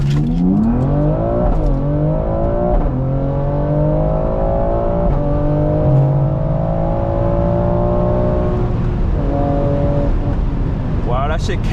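A stage 2 BMW X3 M Competition Sport launches hard from a standstill, its loud engine rising through repeated upshifts in a sustained pull before a sharp change near the end.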